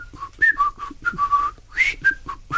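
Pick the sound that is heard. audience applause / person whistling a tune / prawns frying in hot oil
person whistling a tune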